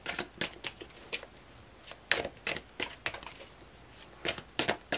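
Tarot cards being shuffled and drawn from a deck, a series of crisp riffling and snapping bursts in an uneven rhythm, close and fairly quiet, with no voices.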